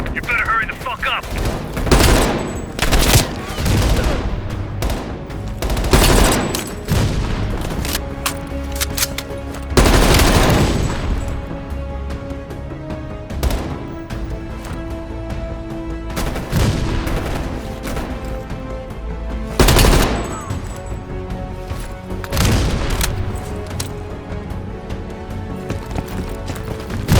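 Heavy machine gun fire in the Call of Duty Cold War video game: loud, close bursts of rapid gunfire and booming blasts recurring every few seconds over a continuous battle din, with voices now and then.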